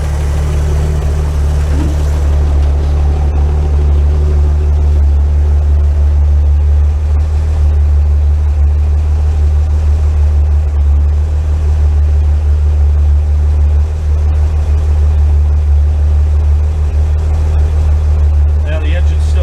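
A car engine idles while warming up, a loud steady low rumble with a constant drone that continues unchanged for the whole stretch, recorded close.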